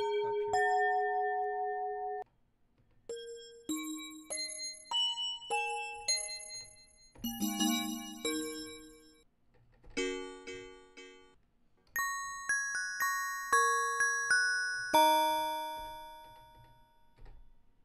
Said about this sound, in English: Let's find a really cool bell up here.